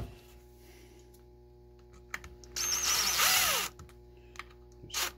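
Screws being snugged down on a DeWalt reciprocating saw during a rebuild: scattered small clicks and taps, then a second-long burst of power-driver whir, followed by a few more faint clicks in a quiet workshop.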